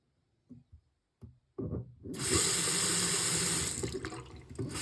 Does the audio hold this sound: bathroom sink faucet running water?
yes